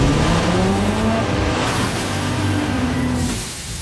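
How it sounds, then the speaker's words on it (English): A car engine roars loud and close, pitch sliding upward as it revs, with a gritty sustained drone that eases off slightly near the end. "Rev up your engine!"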